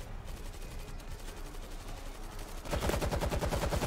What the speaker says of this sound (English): Did you fire all those mortar shells?